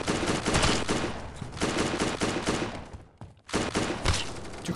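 Dense automatic gunfire and rapid shots in the mobile shooter game Standoff 2 on iOS, loud sustained bursts with a brief gap before firing resumes.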